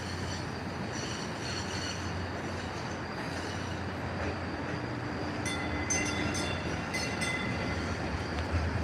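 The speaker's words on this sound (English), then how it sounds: "All right, the train's coming." A Green Line transit train pulls into the station with a steady low rumble and rolling wheel noise, then high metallic squeals from the wheels in the last few seconds.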